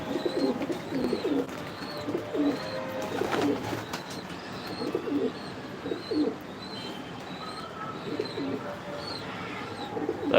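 Several pigeons in a racing pigeon loft coo close by in repeated soft rolling phrases, with a few light chirps and rustles between them, and nobody speaks.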